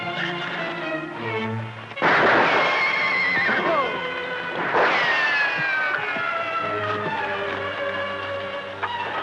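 A horse whinnies loudly twice in a Western shootout scene, shrill descending neighs over a busy music score with faint hoof and gunfire-like noise.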